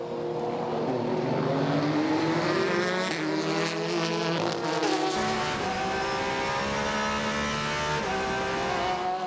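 Ford and Ferrari GTE Pro race cars scream past at Silverstone, their high-revving engines overlapping in a sustained, rising and shifting howl with no gaps, heard fairly close.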